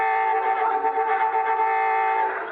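A car horn blares in one long, steady, sustained honk, heard clearly with a thin, narrow tone in a 1951 radio drama broadcast.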